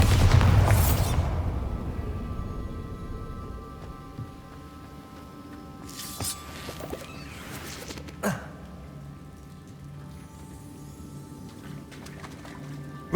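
A Bombarda blasting spell from Hogwarts Legacy erupts as a loud, deep boom at the start, then fades into a low rumbling tail, with a few faint crackling impacts afterward.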